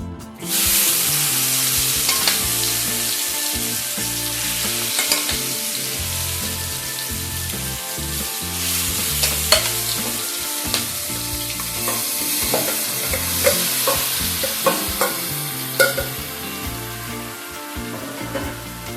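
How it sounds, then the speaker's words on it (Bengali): Marinated chicken going into hot oil that was just used for frying potatoes gives a loud burst of sizzling, which settles into a steady crackling fry broken by sharp spatters and stirring scrapes, close by with no talking. "এবার এই তেলের মধ্যেই আমি ম্যারিনেট করে রাখা চিকেন দিয়ে দেবো"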